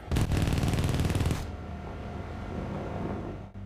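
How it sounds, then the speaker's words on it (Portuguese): Cannon fire from a MiG 21 and Mirage III dogfight: a loud, rapid burst of automatic fire lasting just over a second, followed by a lingering roar and rumble. "Seu ala estava logo atrás, perseguindo o mesmo MiG e disparando seus canhões"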